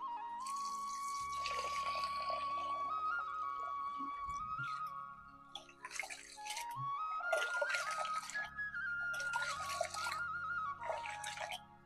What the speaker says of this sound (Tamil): 1 கப்பு அரிசி, பருப்பு வந்து 1/4 கப்பு, அவரைக்கொட்டை 1 கப்பு, இதெல்லாம் சேர்த்து கழுவிக்கலாம்.